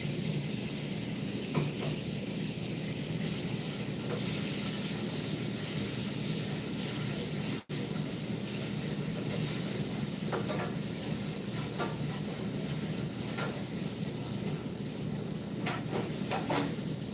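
Minced garlic sizzling in a hot pan, a steady close hiss with light crackles throughout and a brief clatter partway, no speech.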